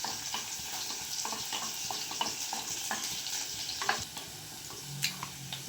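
Garlic and green chillies sizzle steadily in a hot pan, a continuous frying hiss broken by the scrape and clatter of a stirring spoon, with no voices.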